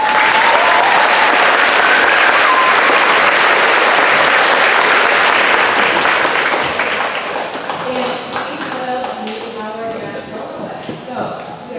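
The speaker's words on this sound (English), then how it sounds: "Let's give her a big round of applause." An audience applauds at a school spring orchestra concert: dense, loud clapping that holds steady, then thins into scattered individual claps as it fades toward the end.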